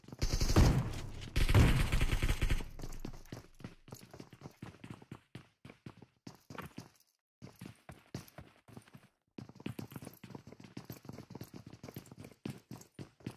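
Video game gunfire: two loud, dense bursts of rapid shooting up front, then long stretches of quicker, lighter staccato shots crackling steadily at mid distance, with a brief pause partway through.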